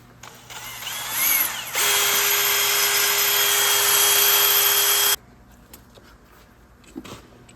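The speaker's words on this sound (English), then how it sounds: "So I just use a little wire wheel and a drill and go ahead and just clean it up" A power drill spins a wire wheel against rusty brake parts of a 2007-2011 Honda CR-V in a steady, loud grinding whir for a few seconds, then cuts off, leaving quiet shop noise.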